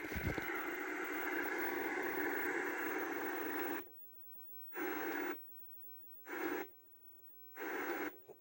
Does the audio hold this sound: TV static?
yes